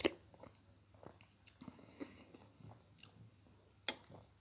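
Someone eats close to the microphone, with quiet, scattered chewing and small biting clicks over a faint background hum, and no speech.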